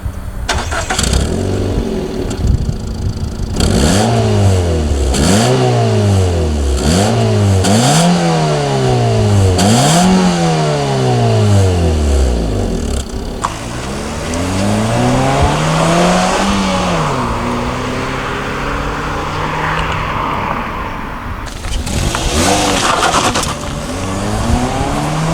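Mazda 2 Sport with a 1.5 VVT engine starts and is revved repeatedly, the pitch swooping up and down in loud, close blips before a longer climbing rev and a final burst, with no talking.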